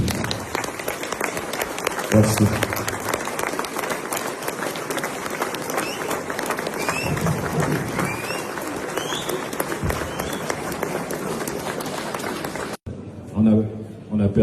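Crowd applauding at a funeral vigil in memory of a rapper, a dense sustained roar of clapping lasting over twelve seconds, followed by a short spoken thank-you at the end.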